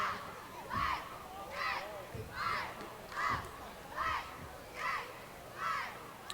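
At a high school football game at Veterans Memorial Stadium, a distant crowd chants in a steady rhythm, with about eight evenly spaced bursts of voices over murmuring stands.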